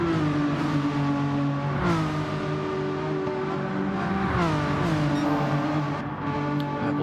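Renault Megane Trophy race cars in a racing video game howl through a qualifying session, running bumper to bumper with a loud, continuous engine drone whose pitch rises and falls as they shift and corner.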